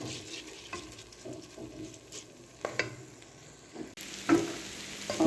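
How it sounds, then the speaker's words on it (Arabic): Rice for Egyptian fatteh sautéing in oil in a pan, a soft continuous sizzle broken by scraping stirs and a louder clatter of the spoon near the end, close and steady, with no talk. "ده رز الفتة بيبقى ابيض، اقعد اشوح فيه بس ما يوصلش لمرحلة اللي هو يبقى اصفر"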